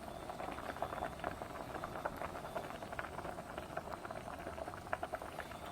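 Pork fat rendering slowly in a pan over low heat for carbonara, giving a steady soft sizzle with fine crackling pops throughout, close and moderately quiet, with no talking.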